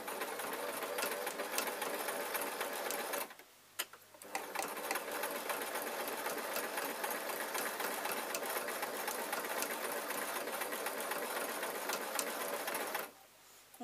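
A sewing machine stitches long fur fabric for a unicorn soft toy, whirring steadily and close, pausing briefly once, then running on before stopping near the end.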